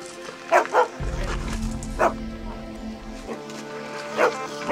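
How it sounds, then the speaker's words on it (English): Dogs bark in scattered bursts, a few sharp yaps rising over a low engine hum and background murmur. "immediately what started happening was dogs started barking."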